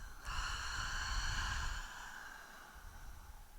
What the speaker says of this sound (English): Audibly exhale.